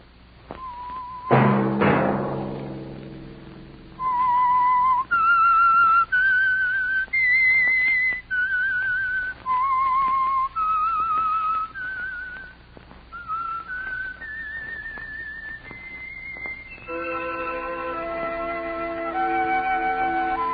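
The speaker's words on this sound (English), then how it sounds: "Let that whistle be your signal for the Signal Oil program, The Whistler" The signature whistled theme of The Whistler, a Signal Oil radio mystery program: a lone melodic whistle of sustained and sliding notes, clear and close, with a sharp percussive hit near the start and a held orchestral chord swelling in at the end.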